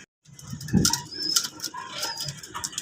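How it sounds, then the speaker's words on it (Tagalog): Released pigeons in bad weather, wings flapping in a burst close by, followed by soft cooing and scattered flutters, with no voices. "pinatukan na natin guys yung mga naiwang ibon"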